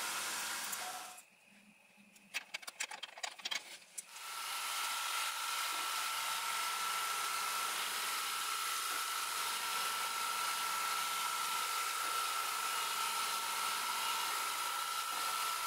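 Steady high-pitched whine of a milling machine cutting parts, with a constant hum throughout, after a few seconds of sharp clicking and clattering near the start.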